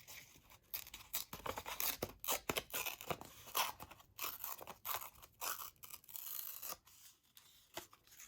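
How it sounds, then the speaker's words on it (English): Paper being folded over and torn off by hand, a series of short crisp crackles and rips, close and quiet, with no talking. "Let's see if we can just kind of fold it over and bring it back and rip it off that way."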